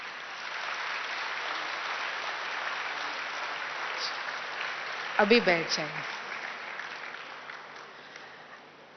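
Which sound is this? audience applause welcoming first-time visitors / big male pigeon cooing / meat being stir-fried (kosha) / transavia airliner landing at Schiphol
audience applause welcoming first-time visitors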